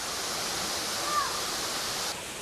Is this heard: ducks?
no